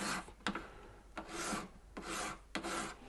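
Sandpaper of 240 grit rubs back and forth over a hand-carved wax signet ring, making steady raspy strokes broken by short pauses and sharp catches, close up with no talking.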